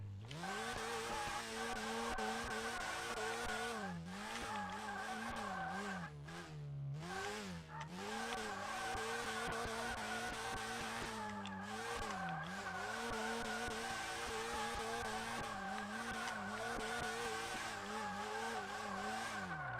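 A race car in a video game, driven with a steering wheel, skidding into lift-off oversteer. Repeated tire squeals warble over a steady engine drone for about twenty seconds, fairly quiet, with no voices.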